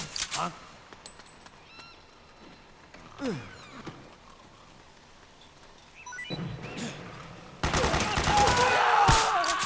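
Gunfire in Metal Gear Solid 4: Guns of the Patriots, with scattered shots early on and then a sustained loud burst of rapid fire and explosive noise filling the last couple of seconds.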